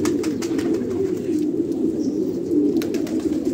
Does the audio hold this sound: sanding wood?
no